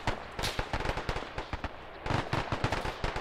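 Grenade blasts and gunfire in a WW2 shooter set at the Battle of Tarawa: a dense run of sharp cracking bursts, loud and close, with no talk.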